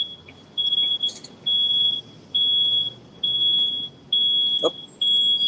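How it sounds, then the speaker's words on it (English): A reversing truck's warning beeper sounds a long, steady high-pitched tone in a regular on-off pattern, about six pulses, over faint outdoor street noise. "sorry about the noise, truck backing up here."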